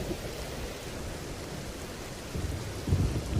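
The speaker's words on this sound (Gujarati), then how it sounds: "અરવલ્લીના મોડાસામાં મુશળધાર વરસાદ ખાબક્યો" Heavy monsoon downpour in Modasa, Aravalli, pours as a steady roar of rain, with deep low rumbles of thunder swelling toward the end and no voices.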